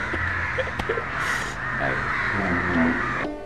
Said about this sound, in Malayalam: ഈ ഗ്രാമത്തിന്റെ പശ്ചാത്തല സംഗീതമായി കാക്കക്കരച്ചിൽ മാറുന്നു.